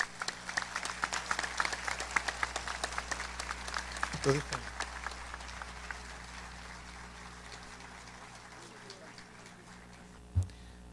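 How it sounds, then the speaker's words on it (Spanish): Applause from a university ceremony audience honoring an honorary doctorate recipient in Chiclayo, a dense patter of clapping that gradually thins and fades, with a few louder isolated claps and talk mixed in. "pido pues un fuerte aplauso"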